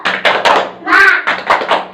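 A classroom does a rhythmic clapping routine, the Indonesian "tepuk semangat" cheer, in a school teaching simulation. Several sharp bursts of claps and taps come in a patterned rhythm, mixed with children's voices.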